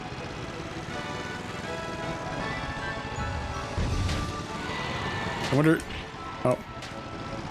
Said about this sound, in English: Listen to the engine purr